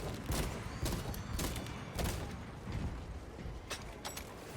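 Reload in Warhammer 40,000: Space Marine 2, amid dense game noise and ongoing gunfire: several clicking, clacking mechanical sounds of a magazine swap, with repeated sharp transients over a steady loud background.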